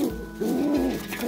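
A young gift pigeon gives two close, loud, low rolling coos, one after the other.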